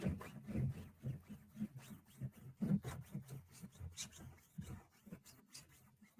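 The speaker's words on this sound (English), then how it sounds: "We'll scuff this with some sandpaper," Sandpaper scuffs a cured epoxy resin surface by hand in a soft, steady rasping rub, repeated strokes close by but faint, with no speech.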